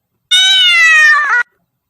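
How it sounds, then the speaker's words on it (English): A single cat gives one clear, close meow, a bright drawn-out cry of just over a second against silence. "C for cat, cat."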